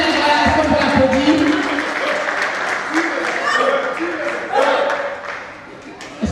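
Audience applause at a theatre performance, a steady wash of clapping lasting several seconds with voices and cheers mixed in throughout.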